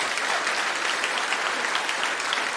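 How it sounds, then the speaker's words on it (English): Studio audience applause from a comedy motoring show crowd, a dense, steady clapping that holds at an even level for the whole stretch with no talk over it. "Why are you applauding him?"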